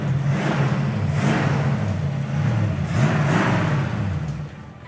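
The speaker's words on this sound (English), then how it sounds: "It's a good sounding Mustang" A 1965 Ford Mustang convertible with a factory A-code 4-barrel V8 revs loudly nearby, rising and falling in repeated throttle blips over a steady rumbling idle, then tapering off at the end.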